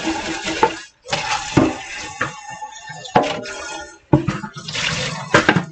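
Running tap water splashing over dishes in a home kitchen sink, with intermittent bursts of flow and clinks between pauses, close and fairly loud.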